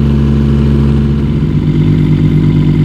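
A 1.2 ton mini excavator's engine runs loud and steady close by, its throttle rising as it lifts with the boom, a continuous mechanical drone with a deepening rumble partway through.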